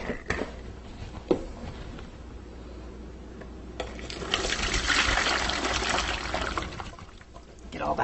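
Cooked apples for homemade organic baby food tipped into a strainer, a wet gush and trickle of liquid draining through that swells midway, with a few clattering knocks at the start.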